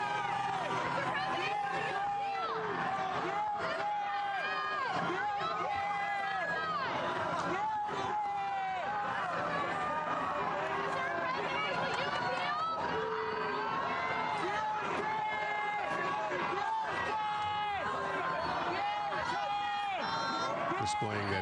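Crowds gathered outside as former President Trump walks toward his residence, a steady wash of distant chatter, hubbub and scattered cheering with no break throughout.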